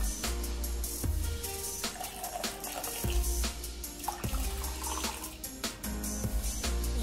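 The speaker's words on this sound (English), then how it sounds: "I'm gonna add 1 cup of boiling water." A steady stream of boiling water pours continuously over bulgur for several seconds with a wet, splashing rush, close by and fairly loud, with small clinks mixed in.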